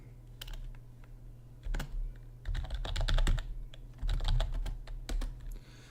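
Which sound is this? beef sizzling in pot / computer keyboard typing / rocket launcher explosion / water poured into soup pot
computer keyboard typing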